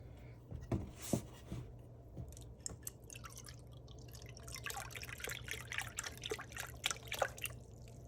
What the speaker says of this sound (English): I'm going to measure my vegetable broth.